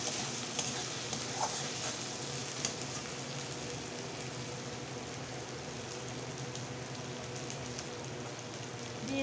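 Onion and garlic frying in a pan with chopped tomato just added, a steady close sizzle with occasional stirring, no talk.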